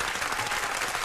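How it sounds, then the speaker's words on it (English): Studio audience applause on a morning hip-hop radio talk show, a brief burst of steady, even clapping with no voices over it. "Let the applause run."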